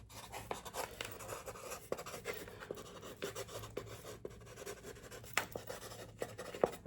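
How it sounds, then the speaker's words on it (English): A pen scratches across paper in close, quiet strokes, with soft taps and short scribbles in an uneven rhythm and no talking. "Let me write that down."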